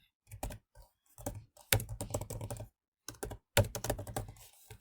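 Bursts of keystrokes on a computer keyboard come close and crisp in uneven clusters with short pauses between them, no voices over them.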